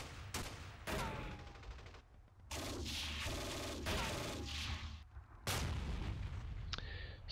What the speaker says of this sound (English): These guys were actually firing at that squad there. Let's keep firing at that.